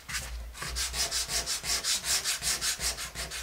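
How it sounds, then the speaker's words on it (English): Sandpaper rubs in quick, steady back-and-forth strokes over stencil paint on stained wood, a close, raspy, rhythmic scraping with no talk. "Just want to sand into that paint just a little bit, just to make it look as if it's joined with the background."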